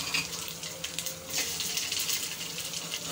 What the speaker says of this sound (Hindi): अब इसमें हमें 2 कप पानी डालना है।